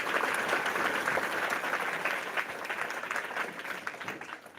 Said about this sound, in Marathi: आपण सगळ्यांनी या पालकांसाठी एकदा जोरदार टाळ्या वाजवूया.